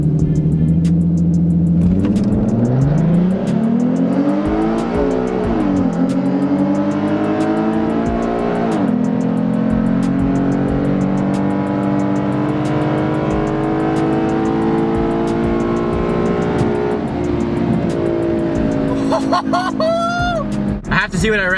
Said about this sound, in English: That first to second shift felt really good. Not gonna lie, the car's pulling pretty good because of the cold weather